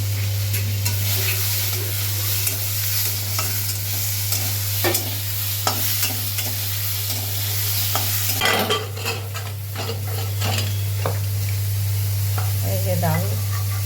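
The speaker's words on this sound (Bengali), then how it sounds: "আর এই যে আর করলা একটা ছিল, আর এই ছোট বেগুন, এটা দিয়ে একটু ভাজা ভাজা হবে" Cucumber peels, bitter gourd and small eggplant fry together in a pan with a steady loud sizzle, while a utensil stirs and scrapes in repeated clattering strokes. A constant low hum runs underneath.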